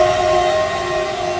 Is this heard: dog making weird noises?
no